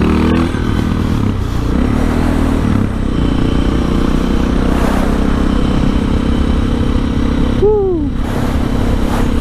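A motorcycle with sharp, instant throttle response is ridden on the road. Its engine drones loud and close throughout, with heavy wind rush, and a brief rising whine rises near the end.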